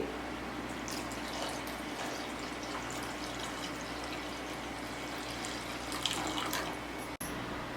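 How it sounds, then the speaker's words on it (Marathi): A jug of cold water from a clay pot is poured into a mix of finely crushed raw mango for a summer drink, a soft continuous liquid splash over steady low background noise. "याच्यामध्ये एक तांब्या गार पाणी घालू माठातलं पाणी आहे"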